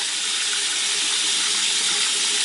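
Steady running tap water splashes into a sink while a makeup brush is rinsed, a continuous close hiss with no talking.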